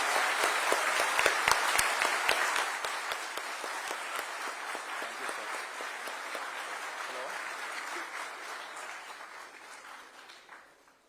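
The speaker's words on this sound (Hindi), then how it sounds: "उनके लिए तालियां बज रही हैं" A crowd gives the scientists sustained applause after the Chandrayaan-3 moon landing. The clapping is dense and lively at first, then slowly thins and fades.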